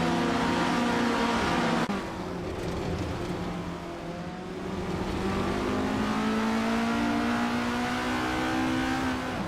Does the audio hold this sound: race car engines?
yes